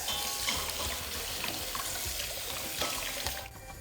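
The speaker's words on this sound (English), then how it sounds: "You will rinse the rice with cold water." Rice being rinsed under cold running tap water in a sink, a steady close splash and trickle with small bursts of agitation, continuous until it cuts off near the end, no voices.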